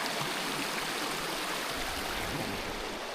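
Creek water flows steadily at a campground, a dense, continuous rushing and babbling close by with no voices.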